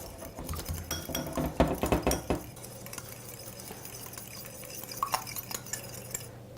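An egg is whisked with a fork in a bowl, giving a quick burst of light clinking and tapping strokes that fades into a quieter, steady rattle, close up with no voices.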